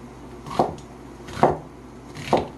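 A kitchen knife chops onion into large chunks for a beef soup, three sharp, close board thuds spaced evenly about a second apart, with no talking.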